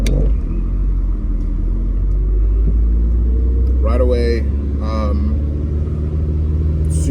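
A 2007 Honda S2000, a mostly stock roadster, drives with a steady low engine rumble and road hum throughout, while someone talks over it.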